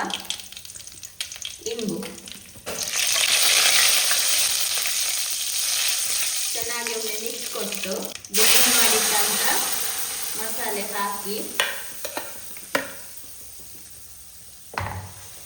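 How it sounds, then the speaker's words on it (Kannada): Mustard seeds, dried red chillies and curry leaves crackle and sizzle in hot oil, a loud, bright frying hiss that surges in bursts with stirring clatter and a few faint voice-like sounds in between. "ಒಂದಿಷ್ಟು ಎಣ್ಣೆ ಹಾಕಿದ್ದೇನೆ ಸ್ವಲ್ಪ ಸಾಸಿವೆ ಸಾಸಿವೆ ಸಿಡಿವಾಗ ಒಣಮೆಣಸು ಕರಿಬೇವು ಸ್ವಲ್ಪ"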